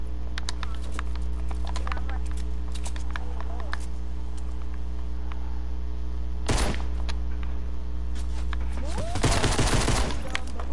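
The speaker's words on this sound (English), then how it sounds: "I'm gonna kill him with the common pistol." A common pistol fires in a video game in two sharp bursts of shots over a steady hum, with other game sounds behind them.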